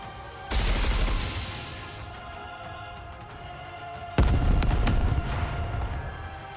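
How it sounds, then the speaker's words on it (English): Missile containers fire in the video game Goddess of Victory: Nikke, two heavy booming launches a few seconds apart, each a loud burst fading into a rumbling tail. "Missile containers online. Fire."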